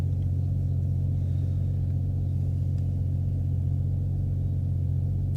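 A 1000HP turbo Barra-engined car pulls in second gear with a steady, heavy low rumble that holds constant throughout, close and loud with no voices over it.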